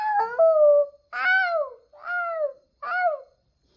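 Four wavering, descending howls in a row, each about half a second long, imitate a wolf; the voice is close and the calls are separated by brief silences.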